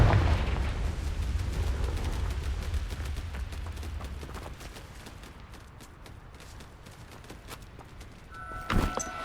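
The Confringo fire spell in Hogwarts Legacy erupts in a dense, sustained roar of blasting and crackling that slowly fades. A sharp impact and a brief tonal chime follow near the end.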